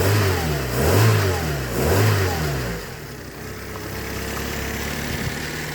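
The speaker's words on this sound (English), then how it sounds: "I'll just give it a quick rev here so you can hear it." A Fiat Punto MK1 60s engine is revved twice in quick succession, each rev rising and falling sharply, then settles back into a steady, moderately loud idle with no talking.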